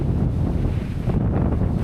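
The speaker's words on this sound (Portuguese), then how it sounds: "o vento aqui tá forte" Strong wind buffets the microphone outdoors, a loud, continuous low rumble with gusty roar filling the whole stretch, no voices present.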